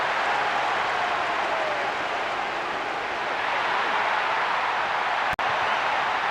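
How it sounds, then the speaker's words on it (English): Dense, steady stadium crowd roar from a Winning Eleven 2008 football match, a constant wash of noise throughout with one brief sharp click near the end. "The rhythm of this game appreciated by the crowd. The noise level has never been anything other than incessant."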